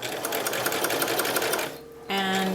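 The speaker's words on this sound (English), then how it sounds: "I'm sewing 1/8 of an inch from the edge of the fabric" Sewing machine stitching fabric an eighth of an inch from the edge while making a house-shaped decor pillow, a steady close whir that pauses briefly before resuming with a higher tonal hum.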